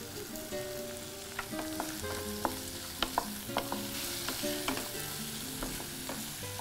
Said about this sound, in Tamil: தக்காளி, பூண்டு, கருவேப்பிலை, மிளகு, சீரகம் இதெல்லாம் சேர்த்து நல்லா வதக்கிடுங்க